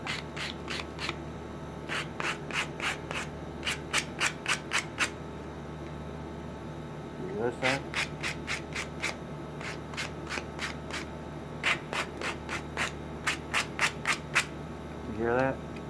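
Hand sanding along the edges of a wooden project produces short, rapid scratchy strokes in counted bursts with brief pauses between them. The sound is close and moderately loud, and a voice speaks briefly near the end.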